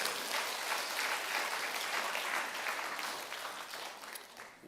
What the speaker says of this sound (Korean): 박수 한번 해요.